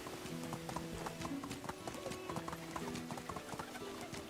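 Horse hooves clip-clop in a steady trotting rhythm, close and fairly loud, in the medieval village game Medieval Dynasty, with a faint whinny and background game ambience.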